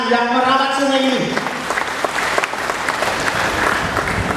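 Applause breaks out at a community Christmas gathering beside a riverside city program, a crowd clapping steadily after a speaker's voice fades at the start, dense and fairly close.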